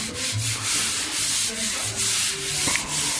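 Steady abrasive rasping of sanding on the bare metal body of a Lada Vesta, close and loud, with rhythmic back-and-forth strokes and no talking.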